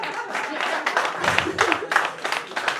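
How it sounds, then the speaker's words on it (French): A church audience briefly applauds in a lively burst of clapping, with voices mixed in. "Est-ce qu'on peut l'applaudir?"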